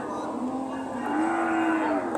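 Cows bellowing at a busy weekly cattle market in Sirajganj, Bangladesh, a long, loud, steady moo that rises midway and carries over the general market murmur.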